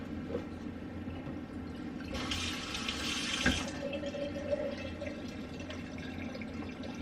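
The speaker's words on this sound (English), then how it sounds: "I love having the reverse osmosis thing because I can rinse my hand and do the other." A reverse osmosis kitchen tap runs briefly as a hand is rinsed underneath, a close hiss of flowing water for about two seconds amid quiet background noise.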